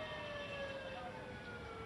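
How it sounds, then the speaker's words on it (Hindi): Fire engine sirens wail at a burning power substation in Delhi, a steady tonal siren drone held continuously through the whole stretch at moderate distance beneath a constant background roar. "पीछे आप सायरन सुन सकते हैं,"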